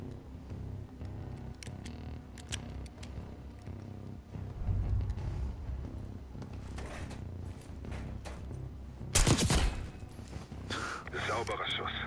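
Gunshots in the shooter game Call of Duty: Black Ops 6 on PS5. A loud, sharp burst of fire stands out near the end over steady game sound and talk.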